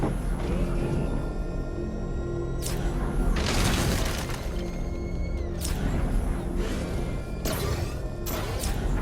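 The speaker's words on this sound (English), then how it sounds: "The Arkham Knight's vehicle swerved and crashed up ahead." The Arkham Knight's vehicle swerving and crashing in Batman: Arkham Knight, several loud smashing impacts with crunching debris spaced a few seconds apart over rumbling game noise.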